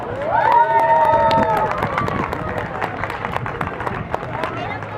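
An audience at a comedy hypnosis show at a harvest festival breaks into loud applause with some cheering and crowd babble, sustained clapping filling the whole stretch.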